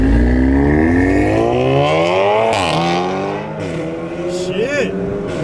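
A tuned Audi S3 rated around 500 hp accelerates hard, its loud engine note rising steadily through the gears with quick shift breaks, close by, while people talk over it.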